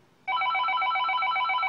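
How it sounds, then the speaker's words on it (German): A landline telephone rings, a clear electronic warble pulsing in a quick steady pattern that starts abruptly and continues, close and alone. "Jetzt klingelt auch schon mein Festnetz hier."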